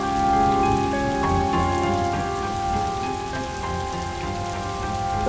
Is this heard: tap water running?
no